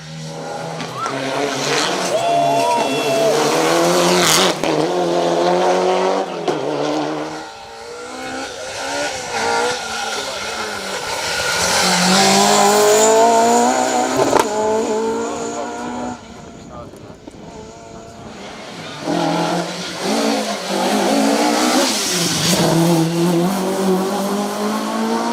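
Class 9 rally car on a stage of the Argyll Stages Rally, engine screaming and shifting through gears as it approaches, passes close and fades, with tyre noise and a commentator speaking over parts of it.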